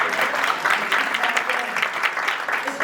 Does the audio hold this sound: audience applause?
yes